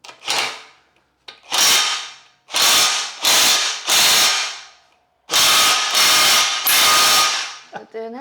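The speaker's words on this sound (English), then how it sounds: "that gun is not going to undo that nut because that Oh. nut is like extremely tight" A cheap Temu impact gun with a 32mm socket hammering on a tight Yamaha rear axle nut, loud close bursts of rattling impacts in repeated pulses separated by short pauses.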